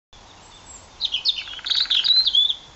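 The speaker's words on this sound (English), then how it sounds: "Birdsong is always great for background beds for like ambient type stuff, down tempo stuff" Birdsong sample meant for ambient background beds: a few bright chirps and short trills, clear and close, with a faint hiss beneath and no voices.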